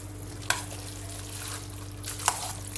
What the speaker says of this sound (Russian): Теперь перемешиваем